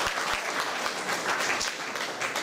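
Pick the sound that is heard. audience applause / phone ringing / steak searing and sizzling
audience applause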